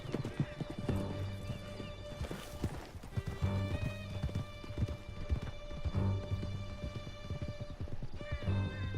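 Horses gallop in Red Dead Redemption 2 with loud, steady clip-clop hoofbeats and repeated neighs and whinnies, set against a bed of game music.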